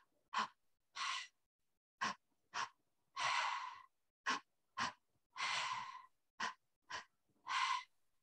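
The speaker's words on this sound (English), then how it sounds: "And the breathing is like this." A person doing a breathing exercise, a series of sharp audible inhales and exhales in an uneven rhythm, some quick and some drawn out, close and clear with silence between breaths.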